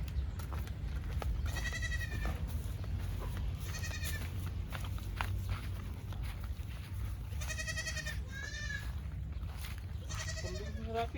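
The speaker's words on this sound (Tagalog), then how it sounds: "Painom tayo ng kambing dun sa bukid" Goats on a farm bleat repeatedly, several wavering, nasal cries in separate bursts, some near and loud, others overlapping, over a constant low background rumble.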